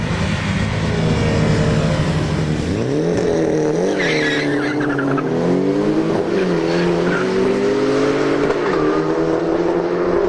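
Drag strip run of a turbo four-wheel-drive Mitsubishi Lancer against a Nissan GTR V-Spec: loud engines rising through gears with tire squeal, a continuous close roar sweeping up and down in pitch.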